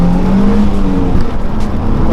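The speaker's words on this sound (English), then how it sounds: "Oh, that's traction control kicking in." A Nissan 350Z Roadster's engine drones steadily from inside the car as it accelerates, its pitch rising and then holding back as traction control cuts in, with talk over the engine noise.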